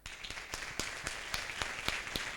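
An audience claps after a talk at an international education symposium, a steady patter of many hands at even strength with sharp individual claps standing out, no voices over it.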